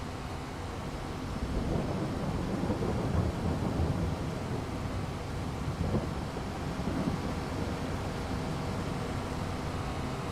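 Steady rain with a low thunder rumble in Farming Simulator 22, a continuous broadband wash that holds at a moderate level throughout with no voices.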